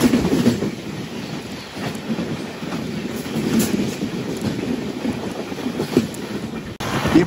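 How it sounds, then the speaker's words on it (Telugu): A Trivandrum Central to SMVT Bengaluru express train passes close by a moving intercity train, its steady rumble and rhythmic clickety-clack of wheels on rails running throughout with no voices. "ఇప్పుడు వెళ్ళింది కదా ఆ ట్రైన్ ట్రివాండ్రం నుంచి బెంగళూరు అయితే వస్తుంది."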